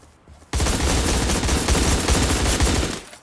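Gunfire erupts in the browser game Surviv.io. A dense, rapid barrage of shots starts abruptly after a short quiet moment and rattles on loudly for about two and a half seconds before cutting off.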